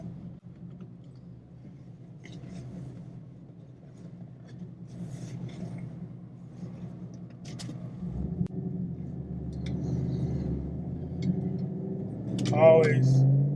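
A Chevrolet Camaro ZL1 1LE with a GM Performance short-throw shifter pulls onto a major highway, its engine rumbling steadily and swelling louder toward the end, with a person talking over it.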